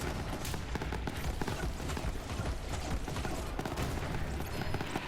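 Rapid gunfire from the Borderlands 3 video game: a dense, continuous barrage of overlapping shots and mechanical clatter holding at an even loudness throughout, with no talk over it.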